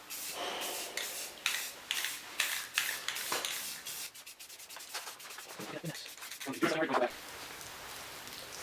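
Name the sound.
spray painting M249 with Rust-Oleum Brown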